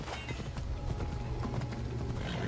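A horse gallops in Assassin's Creed Odyssey, its steady clip-clop hoofbeats running fast and continuous over a low rumbling game backdrop, with no talk.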